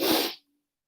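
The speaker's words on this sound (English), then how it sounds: "I feel like I'm going to sneeze." A single short, breathy sneeze bursts out close to the microphone, a sharp hissing blast lasting under half a second before cutting to silence.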